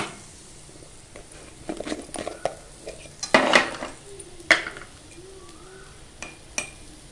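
Okra is stirred and sautéed with turmeric and salt in a pan: scattered scrapes and clinks of a utensil over a light sizzle, louder in the middle, with no talking.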